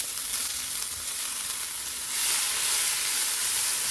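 Onion and capsicum sizzle hard in a hot pan over high heat, a steady broadband frying hiss that swells louder about halfway through as the pieces are tossed, with no voices.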